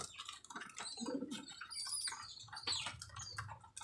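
Young racing pigeons chirp and twitter softly in a loft, with faint wing flutters and scattered high calls. The sound is quiet and there is no talking.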